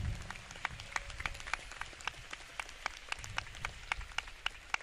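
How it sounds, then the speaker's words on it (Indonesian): Applause from an audience at an Isra Mi'raj religious gathering at a foundation hall, a thin, scattered patter of individual claps, moderately distant and fairly quiet throughout. "Tepuk tangan dong"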